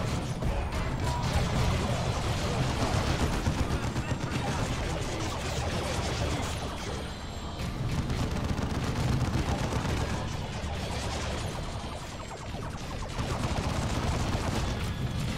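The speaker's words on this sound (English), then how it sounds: "I'm throwing down a tarantula turret in this fight." Heavy gunfire from a tarantula turret in the strategy video game Dawn of War 2, a dense, continuous clatter of shots and impacts mixed with battle noise throughout.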